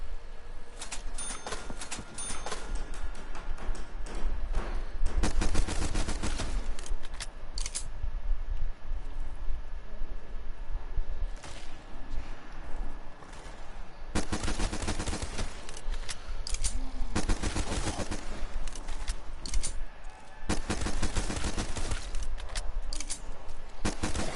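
Rapid gunfire from shooting zombies in a late-night video game, heard as dense bursts of shots separated by quieter gaps, loud and close, with no talking.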